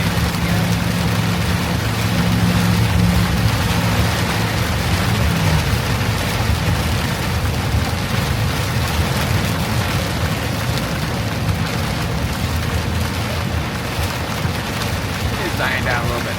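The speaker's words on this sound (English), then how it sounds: "You can hear the truck pushing through the water that's cooling on the interstate." A semi-truck drives along a wet interstate, its tires pushing through standing water in a constant loud hiss and spray that lasts the whole time.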